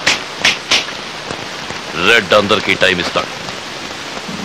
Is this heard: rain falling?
yes